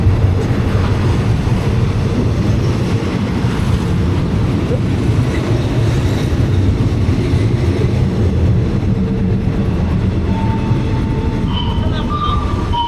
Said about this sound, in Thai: ดูครับรถไฟมาพอดีเลย